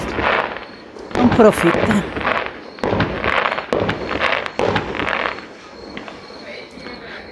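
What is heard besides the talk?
fireworks going off outdoors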